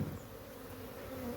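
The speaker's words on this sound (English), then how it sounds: "And this hive has a lot of bees." A dense swarm of honey bees buzzes inside a crowded hive, a continuous close, low droning hum with no other sounds.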